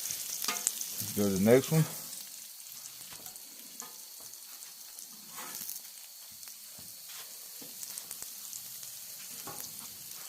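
Smash burgers of half wild pork and half deer sizzle steadily on a griddle, with a brief scraping, pressing burst near the start, and a voice speaks briefly.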